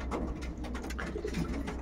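Homing pigeons coo softly and repeatedly, with several birds overlapping against a steady background hum.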